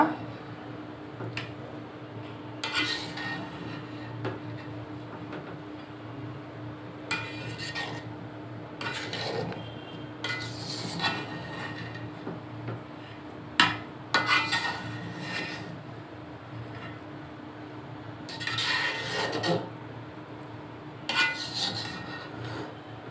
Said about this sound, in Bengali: এখন নেড়ে নিব পোলাওটা